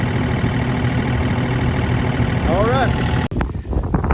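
A Frontier RC 2060 bush hog's engine runs steadily and loudly close by, its pitch rising briefly as a little throttle is given before it cuts abruptly near the end; a voice speaks over the running engine.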